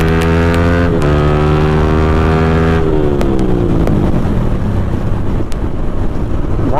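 A motorcycle fitted with a full-system exhaust revs loudly and close by, its droning engine note rising and then dropping away, with wind buffeting the microphone.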